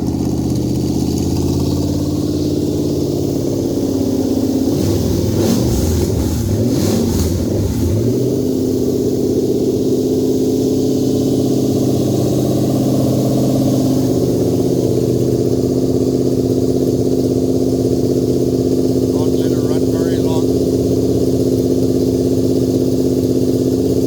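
A Lexus 2UZ-FE VVT-i V8 runs on a standalone harness. It is loud and close, with a rough start-up burst followed by a steady idle hum that continues throughout.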